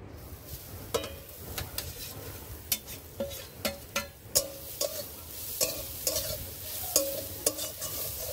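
Grated coconut is stirred in a hot kadai, a soft sizzle running underneath while a spoon or spatula scrapes and knocks against the pan in irregular strokes, close and fairly quiet.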